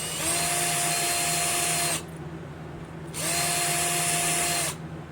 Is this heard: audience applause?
no